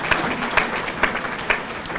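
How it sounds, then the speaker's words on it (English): An audience at a city general plan kickoff event claps briefly, a short, fairly close burst of applause with a few sharper claps standing out. "give them some applause"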